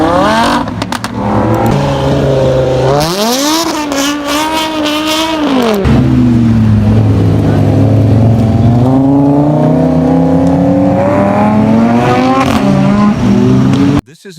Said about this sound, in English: Scariest Engine Roars of these 7 cars